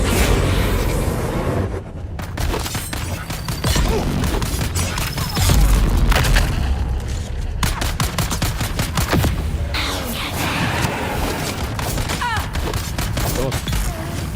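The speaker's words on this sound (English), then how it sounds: "Hate those Gatling guns." Sustained rapid Gatling gun fire in the video game Dune Awakening, a dense continuous rattle of shots with booming impacts throughout, loud and close, with a voice talking over it.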